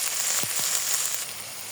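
Onion and spices fry in hot oil with a steady, close sizzling hiss, broken by a couple of soft stirring knocks early on.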